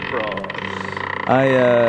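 A recorded human voice played backwards, producing a croaking, frog-like warble with a wobbling pulse, then a louder strained tonal stretch, close and clear.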